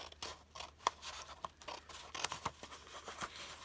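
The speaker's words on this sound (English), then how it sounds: "we're going to cut to that center line" Scissors cut through paper for a junk journal pocket, a quiet, close series of snips and scrapes with a few sharper clicks and no speech.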